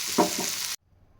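A short burst of oily sizzling as spices fry in a pan with a couple of stirring scrapes, then it cuts off abruptly into near silence.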